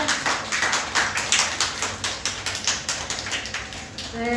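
Church congregation applauding a departing evangelist at a flower presentation, a steady, fairly dense patter of hand claps sustained throughout at moderate distance, no voices over it.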